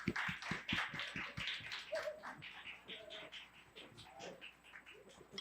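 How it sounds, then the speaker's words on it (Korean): Audience clapping at a congress event in Seoul as a presenter is welcomed to the stage, a moderate burst of many hands that is strongest at the start, then thins into scattered claps and fades. "다시 한번 큰 박수로 환영해 주시길 바랍니다"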